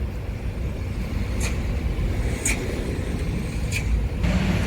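A Ramayana suite class bus pulling into its spot, a low idling engine rumble under road noise, punctuated by a few short sharp hisses at even intervals, with no one talking.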